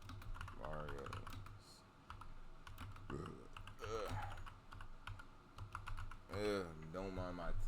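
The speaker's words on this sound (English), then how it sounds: "Don't mind my typing." Rapid typing on a computer keyboard clatters steadily in the background while someone talks over it at intervals, the clicks fairly faint and continuous.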